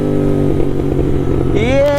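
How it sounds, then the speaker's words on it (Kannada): A Royal Enfield Interceptor 650 or Super Meteor exhaust rumbles loud and close, with popping crackle and a rising rev near the end, while a voice talks over it. "ಪಾಪರ್ ಕೇಳ್ಸೋಣ ನಿಮಗೆ, ಪಾಟ್ ಪಾಟ್ ಪಾಟ್."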